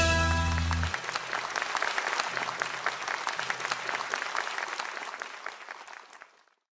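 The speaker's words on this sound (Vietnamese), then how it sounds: "Xin quý vị hãy dành một tràng pháo tay để cổ vũ cho phần biểu diễn." Audience applause at a bolero song concert, a dense burst of clapping that starts loud after a brief musical ending and sustains steadily before fading out.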